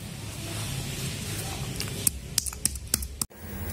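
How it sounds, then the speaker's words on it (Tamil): A handful of sharp, irregular taps of cardamom pods being pounded in a small mortar over a steady background hum. "இப்போ முதல்ல ஏலக்காவை இடித்து எடுத்துக்கலாம்."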